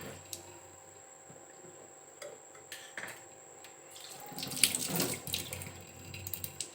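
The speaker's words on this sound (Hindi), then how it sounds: "तो देखिए बूंद बूंद करके टप टप टप टप गिर रहा है ना" A leaking household tap lets water fall in scattered small drips and splashes, faint and irregular, with a brief busier burst of running or splashing water in the middle.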